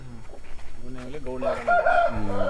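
A nemali fighting rooster crows loudly and close by, its drawn-out call rising over a background of voices talking and farmyard noise.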